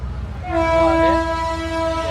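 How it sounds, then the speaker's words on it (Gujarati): A train horn sounds loud and sustained near Navlakhi Port, Morbi, its steady harmonic blare holding over a low rumble of rolling wheels close by. "બાકી જો અત્યારે ટ્રેન જાય છે અહીંયા"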